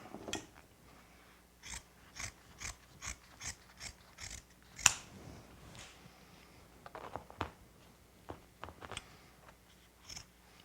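Scissors snip carpet binding into a point at a rug corner, a series of crisp, close cuts in a loose rhythm, some quick and clustered, others spaced apart, with no talk.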